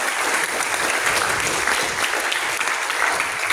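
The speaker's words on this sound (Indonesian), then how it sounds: "Kasih tepuk tangan dong ya." Applause at a forestry students' academic publication event at Universitas Lampung, an even, sustained round of clapping from a roomful of people, loud and continuous for a few seconds without speech.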